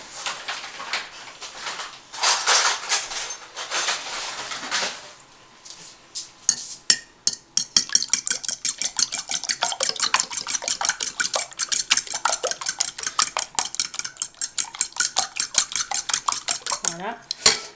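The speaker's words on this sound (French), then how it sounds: "ils ont presque tous 2 jaunes d'œufs. Alors, on va les battre." Egg yolks are beaten in a bowl for gingerbread house batter: after some faint rustling and a few clinks, a utensil whisks against the bowl in fast, steady, clattering strokes that carry on to the end.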